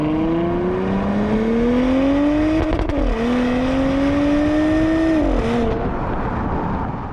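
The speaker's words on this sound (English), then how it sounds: "I press that and the exhaust is now on. In here you don't hear it, but from outside you do." A 2020 Porsche Cayenne Coupe with the sports exhaust engaged: a loud, close engine note rising steadily, dipping briefly, climbing again and then cutting off, with no talking over it.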